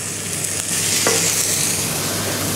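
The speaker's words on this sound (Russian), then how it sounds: "Так, наше масло раскалилось. Мы можем начать обжаривать наше каре." A venison rack frying in hot oil in a restaurant kitchen, giving a steady, loud, close sizzle that swells slightly as the meat settles into the pan.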